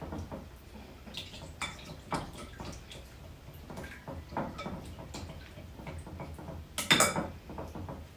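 Reuben casserole mixture with sausage stirred in a pan, giving a run of scraping, clinking utensil strokes against the cookware, with a sharper, brighter scrape near the end.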